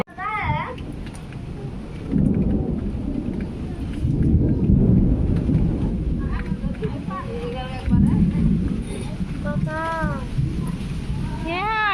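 A cyclone storm in a rural home setting brings rumbling thunder, with heavy rain and gusting wind roaring loud and close throughout. People's voices can be heard under the storm.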